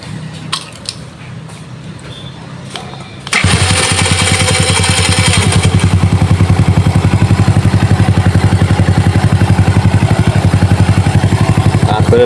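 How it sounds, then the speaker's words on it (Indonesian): A Honda C70 motorcycle with a 12 V full-wave charging setup starts after a few seconds of near quiet, then runs at a steady, loud idle with a rapid, even engine throb. "Sekarang kita akan hidupkan motornya."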